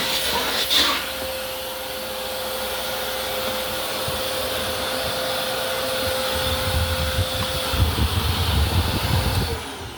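A vacuum cleaner sucks up household dust into corners, a loud continuous motor whine with a steady hum, some bumps and scraping from the nozzle, no talking.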